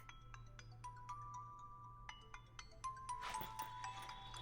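A mobile phone rings indoors with a soft repeating electronic melody of short tones, faint and steady, building slightly louder toward the end over a low background hum.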